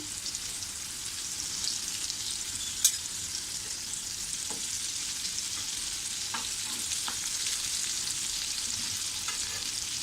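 Potato slices coated in semolina sizzle steadily in hot oil in a pan, a continuous close frying hiss with occasional small pops and one sharp crackle, no voices.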